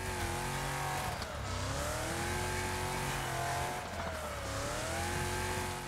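A damaged car in the Wreckfest video game, its engine droning loudly and continuously with the pitch sweeping up and down in repeated revving cycles, plus some tire noise.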